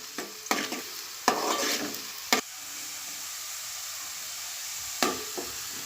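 Onions fry in a pan for a Konkani crab masala, a soft sizzle broken by several sharp scraping stirs of a spoon against the pan, close by with no talking.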